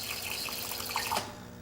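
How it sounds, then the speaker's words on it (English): A Jura Impressa S9 Avantgarde espresso machine pumps a small amount of water into its system, a steady rushing, watery hum that stops abruptly after about a second. "The Avantgarde will pump a very small amount of water into the system and stop automatically."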